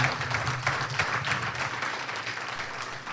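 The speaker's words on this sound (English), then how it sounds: "I think he deserves another round of applause" Audience applause at a talk on practical federalism, a dense wash of clapping from a crowd that stays steady and fairly loud for a few seconds without easing off.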